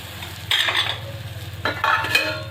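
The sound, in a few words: tadka sizzling while adding turmeric to amti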